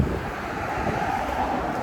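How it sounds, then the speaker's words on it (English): Strong wind at a beach roars across the microphone in a constant, heavy rush, with a broad surf-like hiss underneath and no voices. "I was going to do the beach, but it's just too windy"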